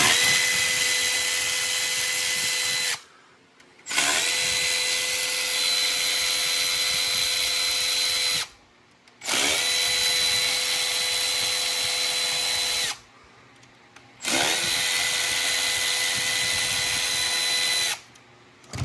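A power drill or impact driver backs out 8mm valve cover bolts on a 2007 Chevy Impala SS, four steady high-pitched whirring bursts of about three seconds each, separated by short silences, loud and close with no talking.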